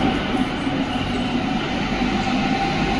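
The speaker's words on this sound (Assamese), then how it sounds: "5 মিনিটতে আহি পালে নেক্সট ট্ৰেইন।" A metro train rolls along on the rails with a loud, steady rumble and hum, heard from close by and continuous throughout with no talking.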